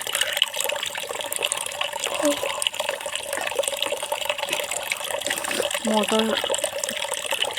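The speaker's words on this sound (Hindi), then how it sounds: "आप लोग को दिखाऊंगी कि यहाँ पानी कैसे आती है" Water running from a tap into a container while filling, a steady broadband splashing rush throughout with someone talking over it and a few brief clinks.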